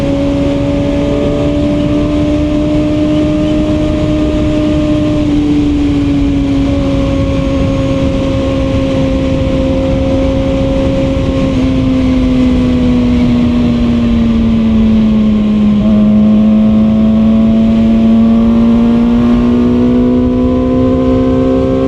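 A QJMotor SRK450RR motorcycle exhaust roars continuously and loudly during a burnout near a highway, holding a steady high-rev drone with slight pitch wavers and no talking.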